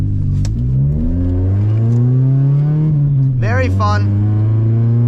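A 1995 Ford Probe's four-cylinder engine revs up while driving, pitch climbing steadily then dropping with a shift before rising again, loud and close, with a brief spoken word over it.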